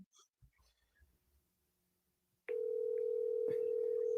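A telephone line clicks and rustles faintly, then a loud steady dial tone starts abruptly and holds, with a brief dialing blip partway through.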